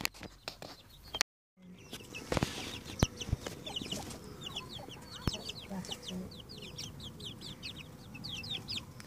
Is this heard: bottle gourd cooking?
no